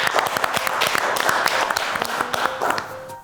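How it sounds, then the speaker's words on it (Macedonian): A studio audience at a televised risotto cooking competition applauds a judge with a dense, lively burst of many hands clapping, close and sustained for about three seconds before tapering off. "еден голем аплауз."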